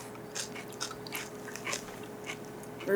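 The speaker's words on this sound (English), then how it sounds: "I always like the crunch of a Zappos." Zapp's kettle-cooked potato chips are bitten and chewed close up, giving a run of sharp, irregular crunches that repeat every few tenths of a second over a quiet background, with no talking.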